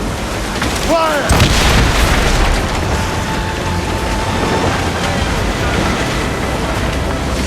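Ship cannons fire in the naval combat of Assassin's Creed Rogue: one heavy, close boom followed by rumbling, rain-like background clatter and lingering battle noise.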